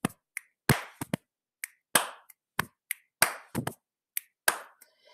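Body percussion in a steady rhythm: sharp hand claps, finger snaps and softer pats on the chest, about sixteen crisp hits over five seconds, close and alone with no talking.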